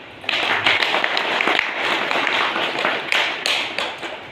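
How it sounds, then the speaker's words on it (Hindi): Loud applause from a devotional Bhagavad Gita group gathering, many hands clapping steadily and densely for several seconds, close and filling the room, with no talk over it. "पहले तो जोरदार तालियां हो जाए।"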